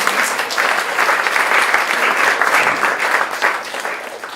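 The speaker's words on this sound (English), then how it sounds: "Can I have a big round of applause for our judges?" A large audience at a startup funding event in Amsterdam breaks into sustained applause for the judges, dense clapping that holds steady for several seconds before gradually thinning out near the end.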